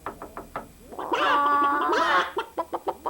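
Chickens cluck in short bursts, then a rooster-like drawn-out crowing call rises loud in the middle before the clucking resumes.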